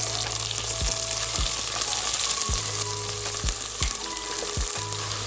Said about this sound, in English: Fry on high flame.